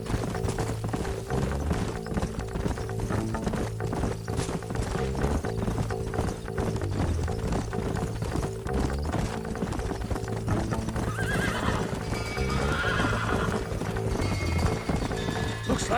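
Horses in the Red Dead Redemption video game clop along at a steady gait while a neigh rings out, layered over a dense rhythmic mix of hooves, tack rattles and game sound.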